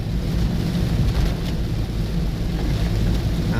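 Heavy, steady rain pours down around a car being driven, a dense continuous roar of downpour with deep low rumble, loud and close throughout with no voices.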